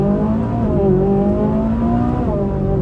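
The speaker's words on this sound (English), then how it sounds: "I haven't heard a car like that in a while." A Ferrari 458 supercar accelerating on Los Angeles roads, its loud engine note climbing steadily through rising harmonic sweeps, heard close and continuous without any talking.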